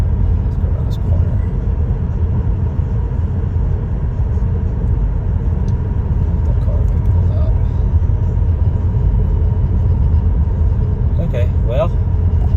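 A Tesla Model S Plaid cruises on the road, heard from inside the car as a steady, loud, low rumble of road and tire noise that holds constant throughout, with only a few brief faint higher sounds.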